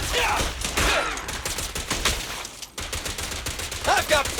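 Bursts of rapid gunfire from the Genshin Impact Pyro Archon quest, loud and dense, crackling through a busy battle mix of effects and music, with a voice briefly present.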